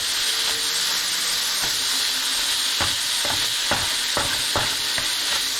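Bourbon chicken sauce cooks hard in a pan with a loud, constant sizzling hiss, and close stirring knocks and scrapes cut through it now and then.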